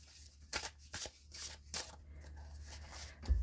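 Tarot cards being drawn and shuffled from a deck, a series of short crisp papery flicks and slides close by, with a few quieter rustles between them and no voices.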